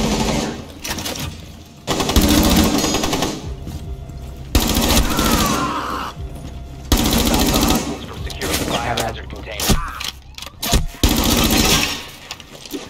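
Rapid automatic gunfire from a Rainbow Six Siege gunfight crackles in loud, dense bursts separated by short gaps, with people talking over parts of the exchange.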